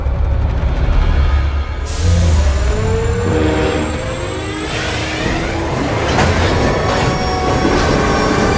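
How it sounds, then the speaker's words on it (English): A game-trailer scene with an armored train drawing near: a loud, steady mechanical rumble builds and swells after a brief lull, its rolling drone and whine filling the whole stretch without any voices. "Train is approaching"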